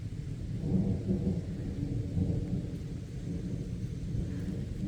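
Steady low rumbling wash of rain over a wooded garden in Missouri, continuous and moderately loud, with a faint distant thunder-like roll underneath and no voices.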